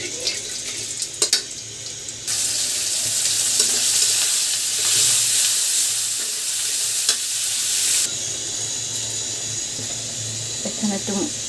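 Cumin seeds and spices frying in a pan for a hilsa fish and eggplant dish, a loud steady sizzle that starts abruptly and holds for several seconds before easing, with clinks of stirring around it.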